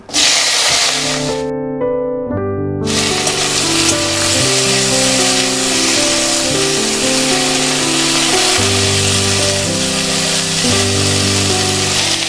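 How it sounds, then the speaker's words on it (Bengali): Okra frying in hot oil gives a continuous sizzling hiss running beneath loud, steady music that dominates the sound throughout. "এবার এই তেলের মধ্যে ভেন্ডিগুলো ভেজে নেব"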